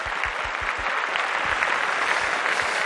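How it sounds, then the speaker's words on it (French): An audience on a French television set breaks into steady applause, a dense wash of clapping that holds evenly for a few seconds with no voices over it. "Allez, on l'applaudit."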